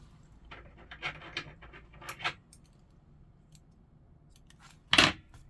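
Scissors snip the ends of sewing thread while stitching journal pages with a three-hole pamphlet stitch, giving a few faint, scattered snips and small rustles followed by one louder, sharp cut near the end, with no talking.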